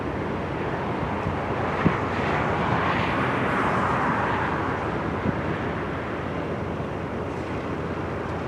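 An F-35 military jet flies near a naval air base, a broad, roaring rush that swells and fades gently, heard at a distance through steady wind noise.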